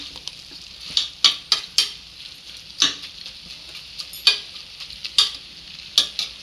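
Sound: vegetables stir-frying in a pan for vegetable biryani

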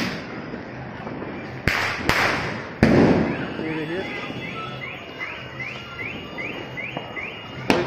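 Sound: firecrackers exploding

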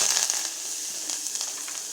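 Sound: garlic, onion and green chilli frying in a pan

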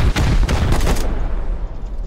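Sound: AK rifle gunfire in the video game Rust

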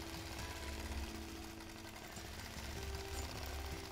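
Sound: sewing machine stitching a quilt over pins

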